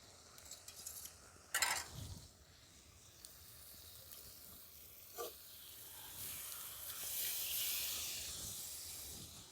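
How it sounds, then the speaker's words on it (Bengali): Water left from soaking paneer is poured into cooking masala in a pan, a faint hiss and soft sizzle with a couple of brief clinks, the steam rising toward the end. "দেখুন এখানে যে পনিরগুলো ভিজিয়ে রেখেছি সেই ভিজানো জলটাই আমি দিয়ে দিচ্ছি।"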